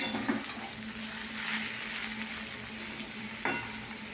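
Potatoes sizzle faintly as they fry in a pan, a soft steady crackle with an occasional scrape or clink, no voices.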